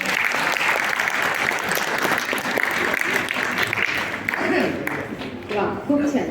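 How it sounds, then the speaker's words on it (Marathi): An audience at the inauguration ceremony of a children's drama festival bursts into loud, sustained applause. Dense clapping fills the hall and eases toward the end, while a voice speaks over it. "एकदा या दोघांसाठी जोरदार टाळ्या होत्या."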